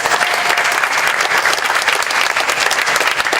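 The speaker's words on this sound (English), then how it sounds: "Another round of applause" A crowd at a Hmong community festival in Wausau applauds for the leader at NTC, giving dense, loud and sustained clapping that fills the whole stretch without a break.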